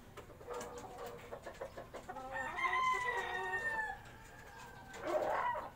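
Chickens cluck and a rooster crows in a rooftop coop on a third floor, the crow drawn out in the middle, with a second burst of clucking after it. The sounds are moderately close but quiet.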